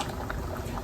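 Creamy fettuccine sauce simmering in a pan gives off a brief soft bubbling and gurgling, steady and close with no talk.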